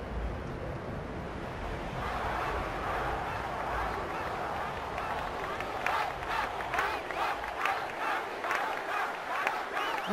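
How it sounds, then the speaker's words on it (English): A stadium crowd cheers in a Final Fantasy X blitzball match, a broad steady roar with rising rhythmic chanting pulses in the second half, loud and continuous with no talk over it. "they're cheering for Waka"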